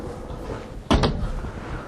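A closet door by the entrance of a 2012 Heartland Sundance 3000MK fifth wheel RV opens with a single brief, fairly sharp knock in a quiet room.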